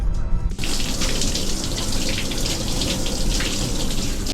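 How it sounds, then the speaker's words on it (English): A hot, high-pressure shower runs steadily in a cabin aboard the Spirit of Tasmania ferry, a dense close hiss of water that starts abruptly after a brief moment and continues unbroken. "I'm just gonna have a shower"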